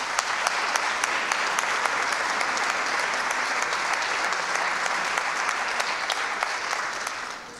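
An audience at a closing session of a conference applauds steadily and fairly close, with dense, even clapping that carries on throughout and eases slightly at the end.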